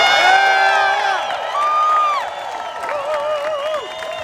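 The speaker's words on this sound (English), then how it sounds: "can we just say thank you and just cheer for nurses and health professionals right now?" A crowd at an outdoor freedom rally cheering for nurses and health professionals, with loud whoops, shouts and scattered clapping from many voices nearby, swelling and easing over a few seconds.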